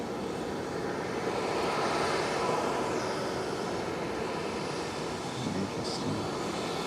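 Japan Airlines airliner at Nagasaki Airport, a steady broadband engine roar holding at moderate distance throughout, with no talk over it.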